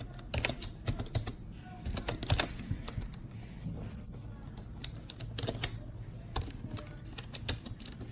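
Steady typing of MaxScript code on a computer keyboard for 3ds Max: a continuous, close patter of keystrokes with small pauses, no speech.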